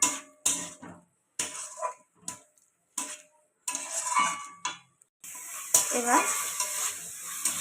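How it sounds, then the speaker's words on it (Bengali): Ginger-garlic paste frying with browned onions in a pan for a yogurt chicken dish, a steady hiss and sizzle building after intermittent stirring scrapes, close and fairly loud, with a brief spoken word near the start. "এবারেতে আমি আদা রসুনের পেস্টটা দিয়ে দেবো"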